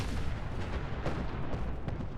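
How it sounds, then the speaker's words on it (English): Video game mine explosions in Fallout 4: dense, continuous rumbling blasts and crackling bursts fill the whole stretch, loud and close, with a few sharper pops standing out; no voices. "Oh dear, mines! Mines, fire, explosions."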